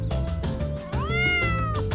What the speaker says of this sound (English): Look, there are 2 cats.